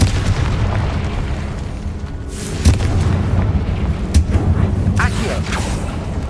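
Fiery Confringo blast spell in Hogwarts Legacy, a dense rumbling game soundscape with several sharp booming bursts cutting through, loud and close over continuous low-end noise.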